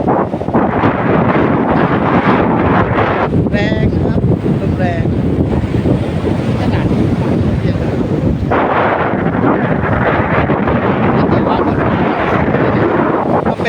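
Very strong wind on the sea beach at Pattani blasts the microphone with loud, continuous buffeting roar, with surf rushing underneath throughout.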